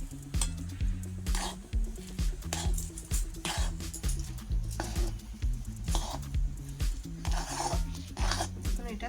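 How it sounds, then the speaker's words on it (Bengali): A semolina and milk powder mixture is stirred in a wok with a spoon, giving steady scraping and scuffing strokes in a repeating rhythm, close and fairly loud, with a low hum underneath. "দিয়ে এটাকে ভালোভাবে নেড়ে চেড়ে নিতে হবে।"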